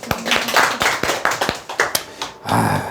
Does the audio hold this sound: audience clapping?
yes